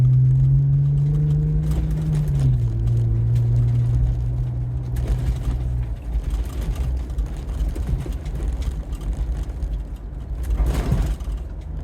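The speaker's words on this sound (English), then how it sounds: "here is the pass at 30 miles per hour" A vehicle fitted with an AccuAir 3.5-inch dynamic lift kit and JRI monotube shocks drives past at 30 mph, its steady engine drone dropping in pitch as it passes, then fading into softer road and tire rumble.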